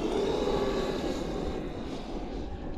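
Traxxas RC car running at full throttle on 8S power across grass, with a loud, sustained high-pitched motor whine that fades slightly toward the end and no talk.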